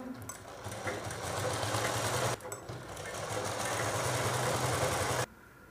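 Sewing machine stitching a seam on breastfeeding bra fabric, a steady close whirring run with a brief pause midway, then stopping abruptly near the end.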